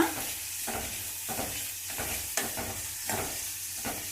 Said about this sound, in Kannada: ಎಣ್ಣೆ ಕಾದಿದೆ ಇವಾಗ ಈರುಳ್ಳಿ ಹಾಕೊಳ್ತಾ ಇದ್ದೀನಿ ನಾನು ಈರುಳ್ಳಿ ಹಾಕೊಂಡು ಸ್ವಲ್ಪ ಕೈಯಾಡಬೇಕು ಈ ಥರ